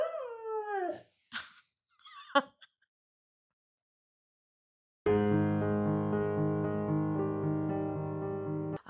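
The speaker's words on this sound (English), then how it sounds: "These are my two dogs, Wilson and Gus." Two dogs, Wilson and Gus, whimper and yip in rising, wavering cries, then after a short silence a sustained tonal sound holds steady for several seconds before cutting off.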